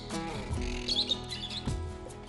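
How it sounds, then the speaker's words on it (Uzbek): A small lory parrot sings among many other parrots, giving brief chirps and squeaky tweets over a steady busy background, close and moderately loud. "kichkinagina jussali Lorining xonishi yaqqol eshitilib turibdi"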